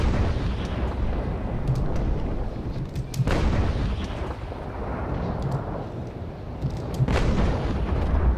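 Ship cannons fire from a brig in the naval battle game Naval Action, with heavy booming volleys landing twice amid a constant low rumble of battle, loud and close, with no talking.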